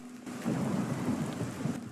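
Steady rain falls along Cyrodiil's main road in the video game Elder Scrolls Oblivion Remastered, with a low, continuous rumble of thunder rolling beneath the downpour.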